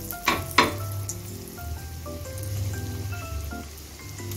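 Potato rolls go one by one into hot white oil in a nonstick pan over low-to-medium gas, a couple of sharp clacks then a steady close crackling sizzle, with faint kitchen tones underneath.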